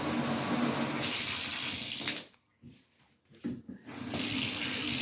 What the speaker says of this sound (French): Donc, vous mettez l'eau froide à fond. L'eau chaude à fond.